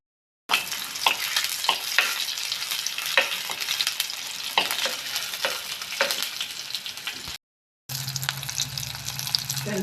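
Fenugreek, finely chopped ginger and shallots frying in a pan for chatti choru, a close crackling sizzle with spatula knocks, briefly cutting out before resuming.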